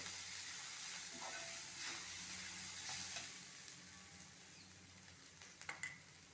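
Grated coconut stirred into sautéed onions in a pan, a quiet sizzle under gentle scraping strokes that thin out near the end, with a few louder clinks at the finish.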